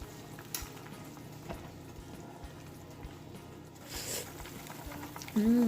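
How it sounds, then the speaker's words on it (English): Water bubbles in a cooking pot as minced garlic goes into a Korean seaweed soup, a soft, low simmering hiss with occasional light taps and a brief tonal sound near the end. "When water boils, I'm gonna put a little bit of minced garlic."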